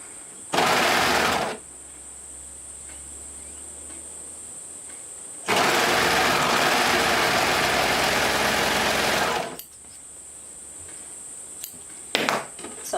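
A sewing machine stitches swimsuit lining in two separate runs: a short burst of about one second, a quiet pause, then a longer steady whir of roughly four seconds that stops abruptly, followed by faint handling noises.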